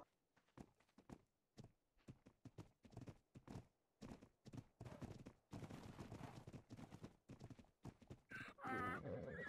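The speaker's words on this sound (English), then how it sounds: "Are y'all looking to sell these horses here?" Horses in a western role-play video game clip-clop in uneven bursts of hoofbeats, close and clear, ending in a loud neigh.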